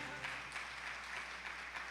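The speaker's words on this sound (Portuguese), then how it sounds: "Bate palma para o Senhor" A church congregation claps hands together during a service, a soft, steady patter of many hands in rhythmic pulses, fairly faint and continuous.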